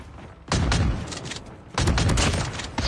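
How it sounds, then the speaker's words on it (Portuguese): Two loud bursts of R9-0 shotgun fire in Call of Duty Mobile, each a sharp blast with a ringing tail, spaced about a second apart and standing alone without talk. "Ela dá dois tiros."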